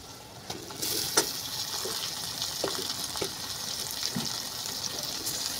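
Meat dropped into a pan of fried onions, sizzling loudly and steadily up close, with scattered clinks and stirring scrapes against the pan.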